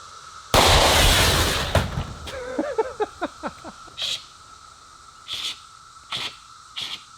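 A Smith & Wesson Shield Plus pistol fires one loud, sharp shot with a long reverberant tail outdoors, followed by several faint scattered pops and clicks.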